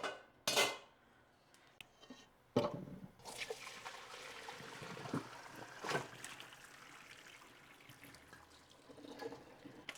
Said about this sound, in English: show you how we're going to pour the water off and fill the jars